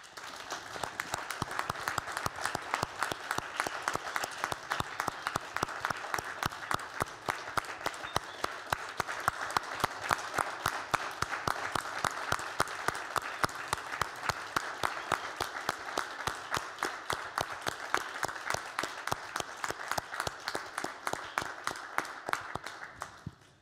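A large audience applauding at a national poetry and narrative award ceremony, dense sustained clapping that carries on steadily for over twenty seconds before tapering at the end.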